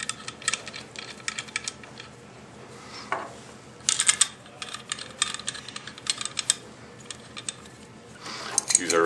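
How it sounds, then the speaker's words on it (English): Metal wrench clicking and clattering while tightening check valves back into a CATalyzer quad valve, with small intermittent taps and rattles close by and no talking. "Use our wrench to tighten those down."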